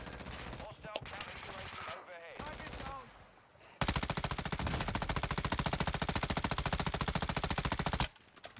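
Call of Duty Warzone gunfire on Ashika Island, with scattered shots and squad chatter at first, then a long, loud burst of rapid automatic fire that runs for about four seconds before cutting off abruptly.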